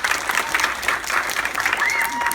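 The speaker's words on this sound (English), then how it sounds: "give him a round of applause." A crowd claps steadily with some voices mixed in, moderately loud and sustained throughout.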